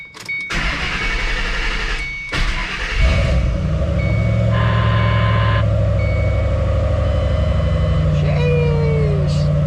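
A 2005-2009 Ford Mustang GT V8 cold starting on a cold day: clicks and a starter crank, then the engine catches and settles into a loud, steady, deep idle close by.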